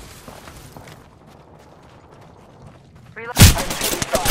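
Video game gunfire bursts in loudly near the end as a dense volley of shots, following a quieter stretch of game ambience with a spoken call in the background.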